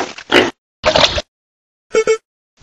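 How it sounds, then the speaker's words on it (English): A pig gives a few short, loud grunts in separate bursts with silent gaps between them, close and clear. "pig"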